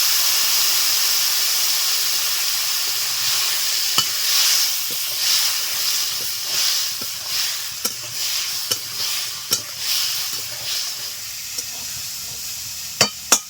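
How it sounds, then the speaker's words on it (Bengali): Spices stir-fried with salt, turmeric and a little water for a thin rita fish curry with taro: a constant loud sizzle and steam hiss, punctuated by repeated sharp clicks of a spatula against the pan, with no talking. "তিন চার মিনিট নেড়ে নিয়ে নিয়েছি ভালো করে কষানো হয়ে গেছে"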